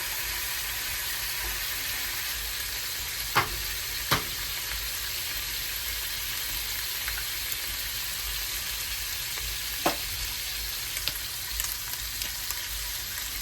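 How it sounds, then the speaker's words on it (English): Butter melting in a frying pan on a stovetop burner at heat setting 3, ready for bacon and eggs, gives a constant hissing sizzle with a few sharp clicks from the pan. "And I'm going to just butter that pan."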